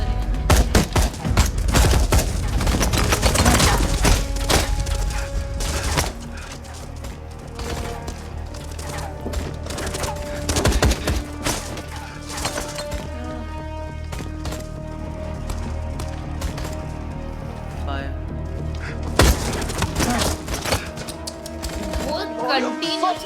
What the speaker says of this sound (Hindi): पता नहीं कहाँ से फायर कर रहे हैं सर।